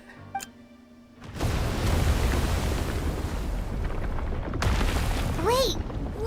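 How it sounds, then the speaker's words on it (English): A loud, sustained rumbling blast in Genshin Impact kicks in suddenly after a quiet moment and roars on for several seconds, with a second surge near the end and a brief whistling tone over it. "It sounded like an explosion."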